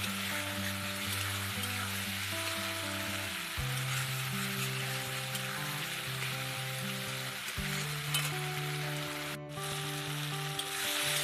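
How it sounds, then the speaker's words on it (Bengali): Small shol fish with green chillies are being sautéed in a pan, giving a steady, even sizzle throughout with a faint stirring scrape and no talk. "আর এই যে ছোটো ছোটো শোল মাছগুলো দিয়ে দিলাম, একসঙ্গে কষিয়ে নিচ্ছি"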